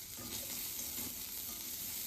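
Chopped capsicum frying in a pan, a loud, dense, continuous sizzle with faint stirring movement, close up and with no voices.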